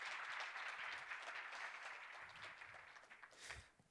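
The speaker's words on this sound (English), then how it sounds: "big round of applause for our host sponsor" Audience applause for a host sponsor at a welcome address, a broad sustained clatter of clapping from a room of people that gradually thins and fades out toward the end.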